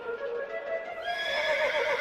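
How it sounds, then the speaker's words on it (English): A horse, the emperor Caligula's racehorse, gives a loud, close whinny that rises and shifts in pitch over about two seconds, with no voices. "with his racehorse, Incitatus."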